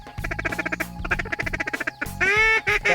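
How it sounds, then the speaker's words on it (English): Mallard duck quacking during a duck hunt, a rapid rhythmic series of loud, close quacks followed by a longer, drawn-out burst of calls. "Here comes another one at us. Mallard."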